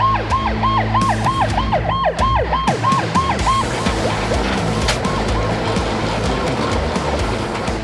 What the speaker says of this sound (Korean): 상황실 교신이 떨어지기 무섭게 사이렌을 울리며 출발하는 공항소방대